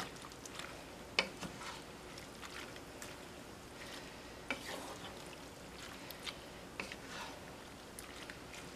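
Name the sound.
shrimp stir-fry cooking down in a pan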